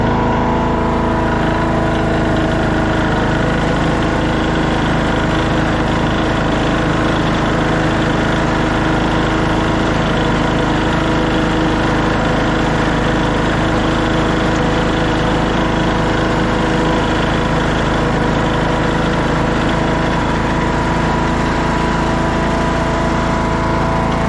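A 2014 Craftsman T1600 lawn tractor with variable drive climbs a hill, its small engine droning loud, close and steady throughout with a constant buzzing rumble and no talk.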